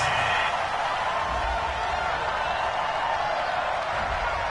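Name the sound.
stadium crowd reacting angrily in a PS4 football video game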